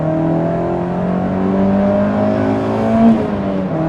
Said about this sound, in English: Oh, it revs up nicely, eh? Very, very smooth.